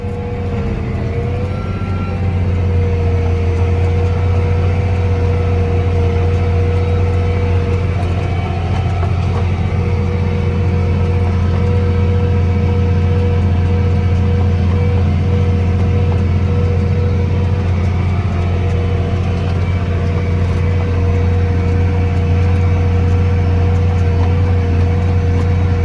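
A planter blower running during the last soybean planting pass, a loud steady drone with constant low hum and engine rumble filling the whole stretch without a break, no talk.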